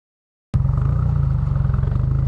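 Subaru WRX with a 6-speed gearbox, its exhaust picked up by a microphone mounted on the rear of the car: after half a second of silence, a loud, steady low rumble with a pulsing idle-like throb continues to the end.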